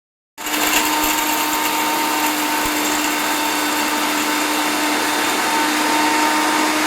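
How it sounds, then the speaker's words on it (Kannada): An electric mixer grinder blends ragi, almonds and dates, starting abruptly and then running as a loud, steady, close whir with a constant motor hum and no speech. "ಮಿಕ್ಸಿಗೆ ಹಾಕ್ಕೋಬೇಕು"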